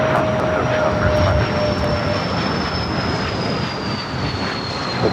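American Airlines airliner taking off from LAX runway 25 right, a loud continuous jet engine roar with a high whine slowly falling in pitch, steady throughout.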